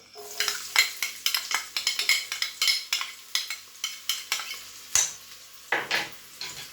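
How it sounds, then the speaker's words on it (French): Prepared onion and garlic fry in olive oil in a pan, with a lively crackling sizzle broken by a steady run of spoon-on-pan scrapes and taps from close stirring, for a cold red pepper soup. "Maintenant, j'ajoute l'oignon et l'ail préparés."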